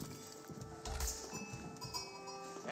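Sheep bleat faintly in the real-time strategy game Age of Empires 4, a short animal call heard over soft game ambience.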